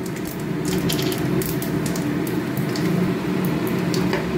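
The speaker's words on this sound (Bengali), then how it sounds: "তেলটা গরম হয়ে গেলে এতে ফোড়ন দেবো, শুকনো লঙ্কা আর 5 ফোড়ন।" Dried red chilies and five-spice seeds sizzle in hot oil in a kadai, a steady, dense crackle with no pauses.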